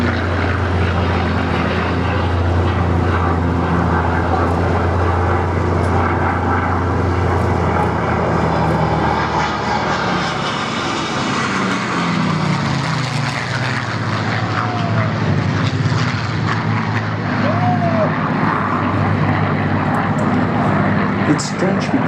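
Piston-engined warbirds such as a P-51, Bf 109, B-17G and Ju 52 at an airshow, a loud continuous propeller drone whose pitch sweeps downward as the planes pass, with a voice talking over it.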